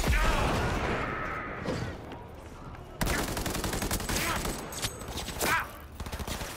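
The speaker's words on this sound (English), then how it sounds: "Who's shooting at me now?" Enemy gunfire in the game Cyberpunk 2077, loud and continuous, with dense rapid bursts and fusillades filling the whole stretch, a brief swoosh midway and faint voices mixed in.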